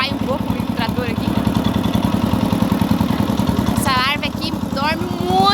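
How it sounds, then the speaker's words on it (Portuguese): A micro tractor engine chugs steadily up close while hauling a cart on a rural property, a rhythmic low thumping with clattering, and birds calling faintly over it. "O jirico chacoalha um pouco o trator aqui."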